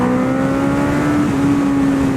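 Motorcycle fitted with an aftermarket laser exhaust holds a loud, steady rumbling idle with a strong droning tone, close to the listener and alone without talk.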